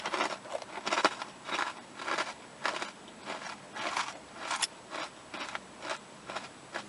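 Someone eats a crunchy fortune cookie up close, with a regular run of about a dozen crisp chewing crunches spaced roughly half a second apart, quiet and without speech.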